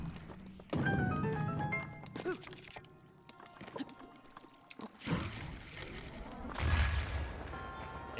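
A wind bomb bursts in Breath of the Wild, a sudden loud whooshing blast with rattling, clattering game effects that swell and fade over several seconds, followed by a second rushing burst near the end.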